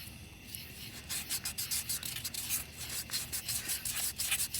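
Sandpaper rubs rust off a car rim in quick, steady back-and-forth strokes, a close, soft scratchy rasp repeating in a regular rhythm with no talking.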